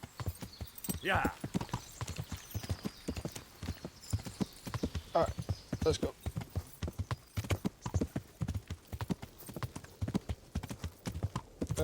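Horse hooves clip-clop in a steady walking rhythm in a video game, close and continuous, while someone talks over them in short phrases.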